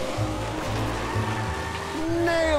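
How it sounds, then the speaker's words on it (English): A kart drifting and steering in LittleBigPlanet Karting, with a continuous engine drone and rising tire-squeal tones near the end, heard over game music. "press the drift button and steer with the left stick"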